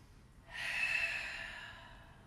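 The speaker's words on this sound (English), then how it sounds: "making sure we're taking nice cleansing abdominal breaths" A deep, slow abdominal breath during a home yoga flow, a single long airy exhale that swells and gradually fades, close and soft with no talking.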